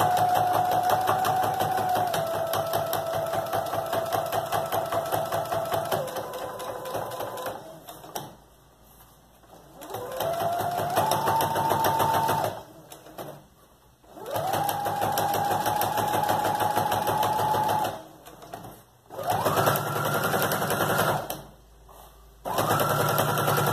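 A sewing machine stitches a child's backpack in several runs, a fast mechanical whir with a humming tone that starts and stops, with quiet pauses between the bursts.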